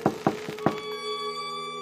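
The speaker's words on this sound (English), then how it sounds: "A knock on Sid's cell." Four sharp, close knocks rap on a hospital cell door in an audio drama, evenly spaced, before a sustained musical tone takes over and rings on alone.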